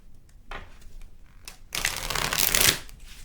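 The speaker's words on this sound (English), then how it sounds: "Let's do some shuffling." Close-up shuffling of a thin, stiff tarot deck: a few soft riffles and taps, then a longer, louder burst of cards being shuffled together.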